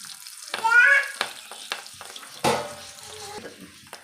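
Spices for a drumstick soup tempering crackle and sizzle in hot oil, with sharp pops and a steady frying hiss over a few seconds, close by.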